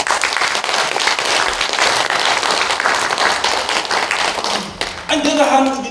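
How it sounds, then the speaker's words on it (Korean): Sustained audience applause fills a conference hall during a lecture at a Korean women's forum in the National Assembly, dense and steady for about five seconds before thinning as a voice begins speaking over the tail. "박수 이럴 때 나와요."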